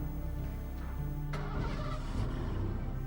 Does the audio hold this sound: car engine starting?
yes